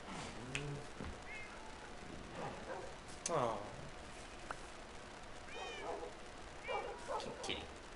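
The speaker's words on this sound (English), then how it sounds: "Come with me, little kitten." Cat meows from Minecraft Bedrock Edition, a few short game mews scattered across the moment, some overlapping a voice as he speaks gently.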